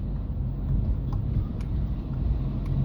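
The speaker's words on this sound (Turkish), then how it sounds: "Burada bile trafik olmuş artık." Road traffic passing on a street in Ermenek, a low, continuous rumble of vehicles at moderate distance with faint intermittent clicks and no clear talk.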